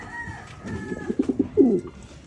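Racing pigeons coo in several short, soft bursts, close by and alone, with a louder throaty coo near the end as they beg for feed.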